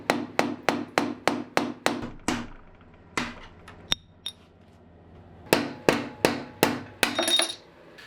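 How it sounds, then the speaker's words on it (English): Sharp metallic hammer strikes on a long screwdriver driving out a tapered steering head bearing ring on a Yamaha FZ1 motorcycle, a rapid run of evenly spaced ringing blows, a pause with a few scattered taps, then another burst. "We'll go with a long screwdriver and a hammer."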